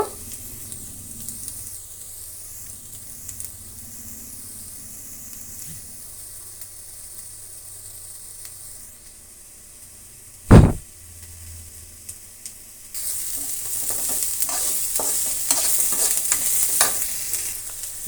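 Two thick-cut onions fry in a pan, starting as a low, quiet sizzle with occasional stirring, then a single sharp metallic clank before the frying swells into a louder, brighter hiss with scraping stirs.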